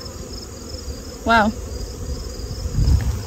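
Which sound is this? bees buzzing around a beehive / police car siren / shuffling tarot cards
bees buzzing around a beehive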